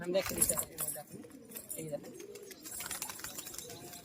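Giribaz tumbler pigeons coo and flutter close by in a loft while people talk over them, with bright chirps and rustling early on.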